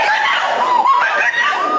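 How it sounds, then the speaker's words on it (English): A woman's high, strained scream on a radio news broadcast, loud and sustained with wavering pitch, heard alone without other talk. "I'm sorry I screamed."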